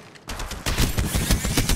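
Automatic weapon fire in Apex Legends Mobile, loud and close: a short burst starts after a brief quiet moment, then a heavier, steady stream of rapid shots keeps going to the end.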